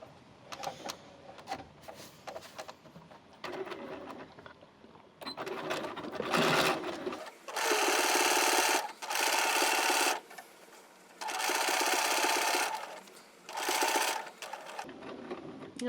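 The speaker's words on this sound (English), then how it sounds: "I'm just going to do a straight stitch all the way around the pocket" A sewing machine runs a straight stitch around the pocket of a felt backpack, whirring in several loud bursts of a few seconds each, separated by brief pauses and soft handling clicks.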